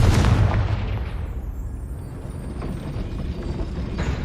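A Confringo blast spell goes off in Hogwarts Legacy, a heavy booming burst right at the start that rolls into a rumbling, noisy tail lasting several seconds.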